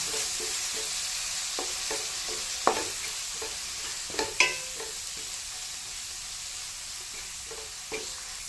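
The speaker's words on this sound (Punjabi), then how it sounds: "ਗਰਮ ਮਸਾਲਾ ਪਾ ਦਿੰਦੇ ਆ ਦੋ ਚਮਚੇ ਪਾਣੀ ਦੇ ਤੇ ਇਹਨੂੰ ਤੜਕੇ ਨੂੰ ਦੁਬਾਰਾ ਅਸੀਂ ਭੁੰਨ ਲੈਂਦੇ ਆ" Garam masala tempering with two spoons of water roasting in a pan for a Punjabi watermelon-rind sabzi, a steady soft sizzle broken by scattered scrapes and taps of a stirring spoon.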